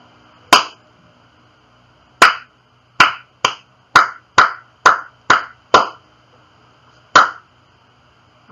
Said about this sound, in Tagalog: gawin na lang natin palakpak